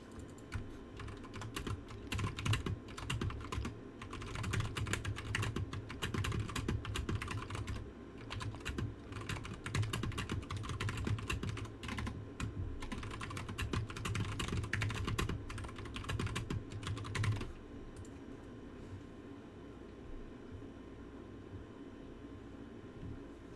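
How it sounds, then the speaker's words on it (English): Fingers type on a computer keyboard in a steady, rapid clatter of close key clicks for most of the stretch, then the tapping stops, leaving low background hum. "He's typing."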